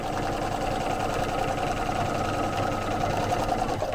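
A sewing machine quilting a chenille baby quilt, running in one steady, continuous mechanical whir with a fast, even stitching rhythm throughout.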